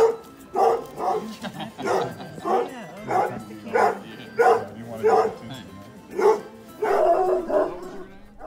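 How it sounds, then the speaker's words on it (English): A pack of tricolor Anglo-French hunting dogs at a château kennel barks and bays in repeated loud, rhythmic bursts, close and overlapping, with some yips and whimpers between. "More than 100 tricolor Anglo-French dogs live there."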